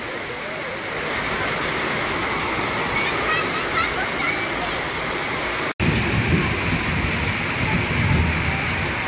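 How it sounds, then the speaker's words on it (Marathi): Heavy rain pours down steadily in a rural farmyard during a downpour, a loud continuous roar of water close by, with a brief break partway through. "पाऊस पडले भयंकर"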